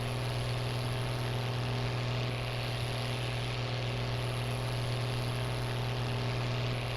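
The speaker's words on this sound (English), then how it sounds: "It sounds like a tractor working." A Case tractor engine drones steadily in Farming Simulator 19, a constant low mechanical hum with a strong low tone, unbroken and alone for the whole stretch.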